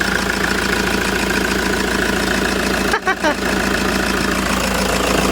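A car engine idles right after a cleaning with engine foam, running loud and close with a steady low rumble and a brief dip partway through as it catches and settles back into a smooth idle.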